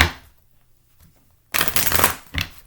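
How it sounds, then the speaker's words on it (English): A deck of tarot cards is shuffled up close: a faint riffle at the start, a quiet pause, then a loud, dense burst of flapping card riffling that trails off with a second short flurry. "Sometimes these cards just don't want to shuffle."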